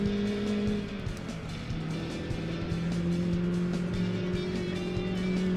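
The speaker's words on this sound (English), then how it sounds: "With this racing muffler, this car have a nice engine sound." A racing car engine with a racing muffler in Gran Turismo 2 drones close up with a raspy, tuned exhaust note, holding a steady pitch with brief dips as it shifts, no talking.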